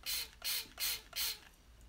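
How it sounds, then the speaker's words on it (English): A spray bottle mists water onto printable vinyl in four quick hissing spritzes with short even gaps, close but fairly quiet. "If we spray our spray bottle here"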